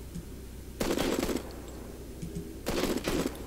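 Semi-automatic gunfire in the Modern Combat 5 shooter game, two quick bursts of rapid shots separated by a quiet pause, fairly faint against low background noise.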